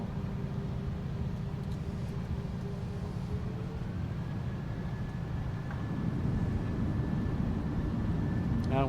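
Thrust reversers on a simulated Boeing 737-800 landing at Kilimanjaro in MSFS2024 produce a loud, steady, rumbling jet roar with a faint whine that rises partway through, holding strong throughout.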